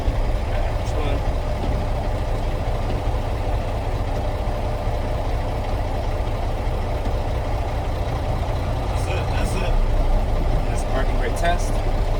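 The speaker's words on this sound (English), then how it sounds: "for the parking brake test, you have the parking brake applied, and you take off in a low gear." A heavy truck engine pulls away in low gear with the parking brake applied during a CDL brake test, giving a loud, steady, close rumble throughout, with a voice talking over it.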